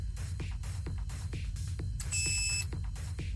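Short electronic beep from a Perun trigger unit installed in an airsoft M14, one steady tone lasting about half a second and standing out over constant low background hum.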